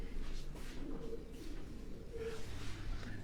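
A Sialkoti pigeon held in the hand coos softly in low repeated murmurs, faint against a steady background hum with no talking.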